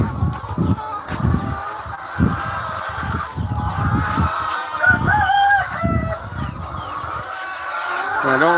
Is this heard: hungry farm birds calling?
yes